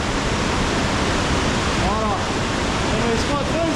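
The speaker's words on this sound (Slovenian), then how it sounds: "se pa zdaj skriva najvišji jamski slap na celotnem Balkanu" A 60-metre underground waterfall in a huge cave chamber, the tallest cave waterfall in the Balkans, roars as a steady, loud rush of falling water filling the space, with faint voices briefly audible underneath.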